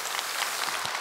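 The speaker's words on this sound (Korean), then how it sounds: "박수 한번 쳐주세요." Applause from a temple audience during a dharma service at Jogyesa, faint and steady with many hands clapping at once.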